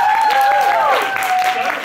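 Loud audience clapping at a stand-up comedy show, a brief burst of dense applause under a prominent voice and cheering.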